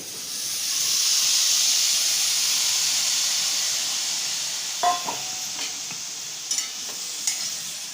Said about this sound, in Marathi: दोनशे ग्रॅम पनीर घेतलं हे छोटे छोटे पीस आहेत हे मी कढईत घालते